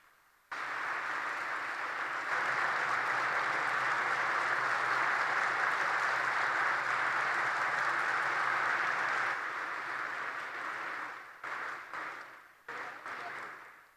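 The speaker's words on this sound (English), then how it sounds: "Let's all rise to our feet and give him a thunderous round of applause." Sustained standing ovation from a large crowd at an event, starting abruptly, holding steady for several seconds, then breaking up into scattered claps before fading.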